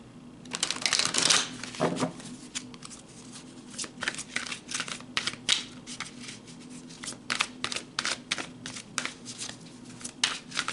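Tarot cards being shuffled by hand: a steady run of crisp riffling and flicking card noise over about ten seconds, fairly close and alone with no talk.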